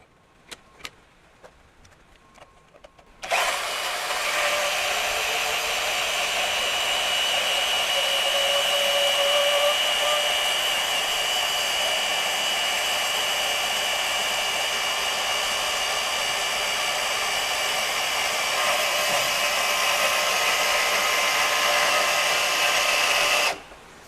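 A FLEX 24V brushless deep cut band saw cutting 2-inch angle iron at a 45-degree angle, starting after a few quiet seconds with faint clicks, then a loud, steady, even whine for about twenty seconds that stops abruptly.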